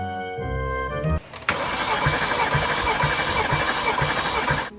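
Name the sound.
BMW race car engine running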